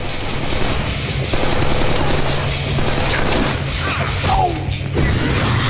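Dense, continuous gunfire and crashing impacts from the Deadpool video game, a loud burst of shots that keeps going with brief swells and no voices on top.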